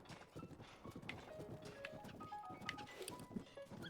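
Horse hooves clip-clopping in a steady trot in Zelda: Breath of the Wild, faint and mixed with soft game ambience and scattered clicks.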